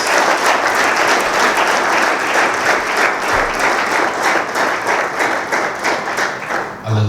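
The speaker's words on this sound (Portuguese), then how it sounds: "Vamos aplaudir mais uma vez o Senhor." Church congregation applauding in worship, a loud, dense and sustained round of clapping from many people that holds steady for several seconds before easing slightly at the end.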